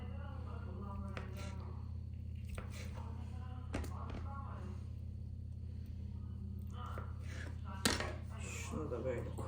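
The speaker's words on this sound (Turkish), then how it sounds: "Birazcık peynir de doğrayalım." Cheese being sliced for a breakfast plate in a home kitchen, with soft knife taps and clinks of a plate and utensils, scattered and quiet over a low steady hum, with people talking nearby.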